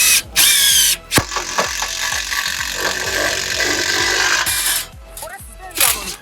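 An impact driver drills through 1 mm stainless steel at a tool trade show, giving a loud, steady mechanical whir with rapid rattling hammering, broken by short pauses and restarts.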